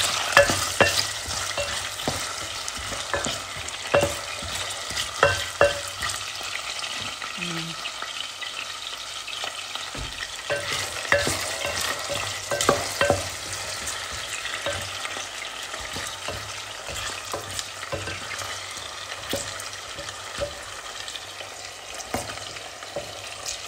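Carrots and potatoes frying in oil for beef caldereta, a loud continuous sizzle broken by frequent scraping and clattering stirs, close by and sustained with no speech.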